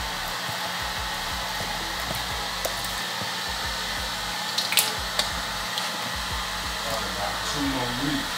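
An electric hand mixer whirs steadily through batter in a pan held by hand, a continuous loud motor hum with faint scraping and a few brief knocks near the end.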